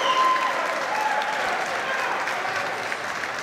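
A squash tournament crowd applauding steadily, a dense wash of clapping that stays even throughout with faint murmuring underneath.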